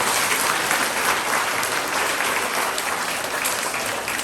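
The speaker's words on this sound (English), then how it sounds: "Can we give these three students another big clap?" Audience clapping for students at a primary school presentation day for years 3 to 6, a dense, even round of applause that continues steadily throughout.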